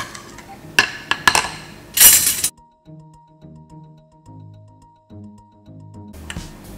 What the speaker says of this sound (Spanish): Y vamos a poner aquí los cubiertos que queremos limpiar.